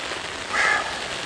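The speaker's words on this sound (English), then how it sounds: "it is pouring down rain, you guys" Heavy rain pours down in a brief, steady, even hiss with no voices over it.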